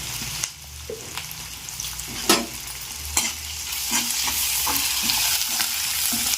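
Onion and curry leaves fry in a pan, giving a soft crackling sizzle broken by the scrape and clatter of stirring, with the frying gradually growing fuller and louder.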